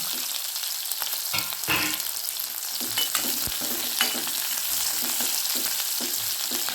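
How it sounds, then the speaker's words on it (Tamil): Onions sautéing in hot oil after mustard seeds splutter, cooked in a Tamil home kitchen, give a steady close sizzle broken by scattered sharp pops and crackles, with no voices. "நல்லா கடுகு நல்லா பொரிஞ்சு பிறகு வெங்காயம் சேர்த்துக்கலாம் இது நல்லா வதக்கிக்கலாம்"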